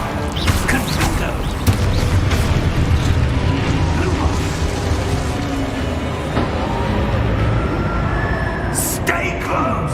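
A Confringo blast spell in Hogwarts Legacy, a loud rumbling, booming burst of explosive noise dense with low-end crackle that rolls on throughout, with a sharp bright crack near the end.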